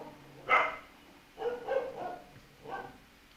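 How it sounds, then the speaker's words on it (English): Puppies barking indoors at home, three separate bursts of sharp, fairly close yaps spaced about a second apart, with no talking over them. "Apologies for the puppies"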